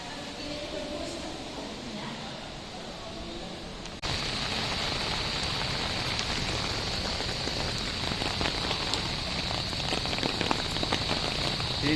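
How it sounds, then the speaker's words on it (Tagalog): Heavy rain drums steadily on a surface, a dense constant hiss that grows louder partway through, with no one speaking. "sobrang lakas ng ulan mga tol."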